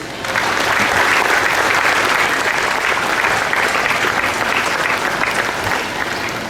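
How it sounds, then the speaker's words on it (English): Graduation-ceremony applause at a commencement, a steady, dense wash of clapping from a large audience that swells in and holds evenly for several seconds. "Let's give them a round of applause"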